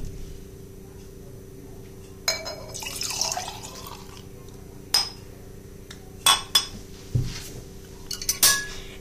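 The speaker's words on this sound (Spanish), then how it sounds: "o agua co permanganato de potasio bótase no fairi" Potassium permanganate water poured into dish soap in a quiet room: faint trickling and dripping broken by a few sharp clinks and knocks of glass or dish.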